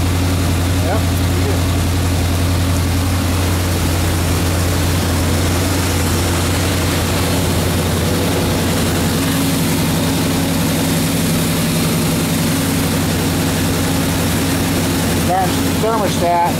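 A Chevy 350 V8 engine running steadily during break-in, a loud, close, continuous low drone with a constant hum, a brief knocking or clatter near the end.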